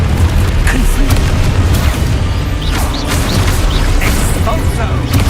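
In the video game Hogwarts Legacy, a Confringo spell sets off a loud, continuous explosive rumble with scattered bursts and crackles, and a voice is heard over the booming.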